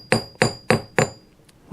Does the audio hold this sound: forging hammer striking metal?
yes